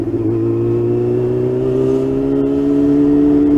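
A first-generation Yamaha R6 motorcycle engine hums steadily up close, its tone rising gradually as it holds a strong, continuous drone.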